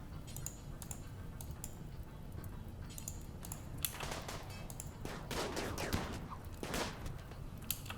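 Rapid bursts of gunfire from colonists in RimWorld, the Alpha 13 build, come as sharp clustered cracks over a steady low background hum, thickening into a dense volley partway through.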